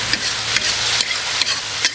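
Beef with chopped chili stir-fried in a wok gives a close, steady sizzle, broken by sharp scraping strokes of the spatula about every half second.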